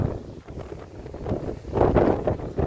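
Strong wind buffets a microphone on a hiking trail near Sant Elm, a rough, gusty roar that swells and rises toward the end, with no voices.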